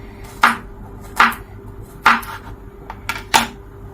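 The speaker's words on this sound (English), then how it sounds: "I'm just going to go ahead and chop them into tiny pieces as I'm doing here." Garlic chopped into tiny pieces with a knife on a cutting board, five or six sharp, close thuds at an uneven rhythm over a quiet background.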